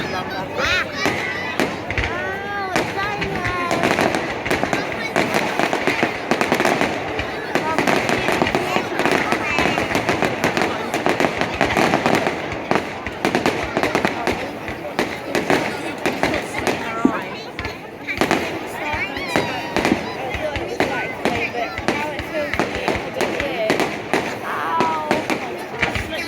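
Bonfire night fireworks display in Corby, big rockets bursting and crackling in dense, overlapping volleys with booms and sizzles, loud and continuous, while people nearby talk over it.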